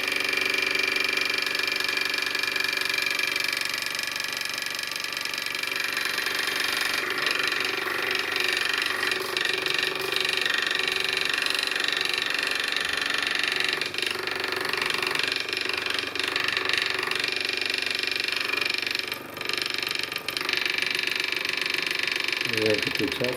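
Steady whine of a small electric hoverboard motor running continuously, used to heat a room, with a voice talking over it for most of the time.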